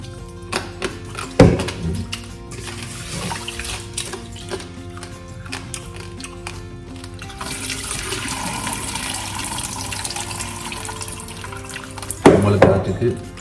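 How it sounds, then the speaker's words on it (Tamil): Rice is washed in water: splashing and sloshing with knocks against a pot, including a couple of louder thunks, while a person talks over it. "அரிசி கழுவி அரிசியை 1க்கு 2 தடவை கழுவும்."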